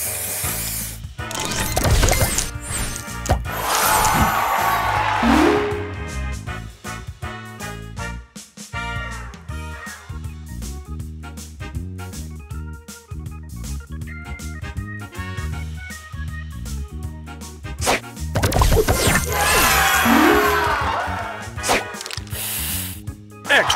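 A spray booster effect fires in the Match Masters mobile puzzle game, a bright hissing spray burst over busy game music and crunchy smashing effects, repeating near the start and again near the end.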